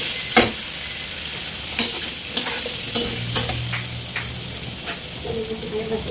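Chicken, ginger and bell pepper stir-fried in a hot pan, a constant close sizzle punctuated by sharp clinks and scrapes of the spatula against the pan at irregular intervals, with no speech.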